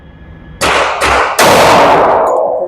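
Three loud, sharp pistol shots from a Sig Sauer xTen 10mm fired at a shooting range, spaced under a second apart, each followed by a ringing echo that decays slowly.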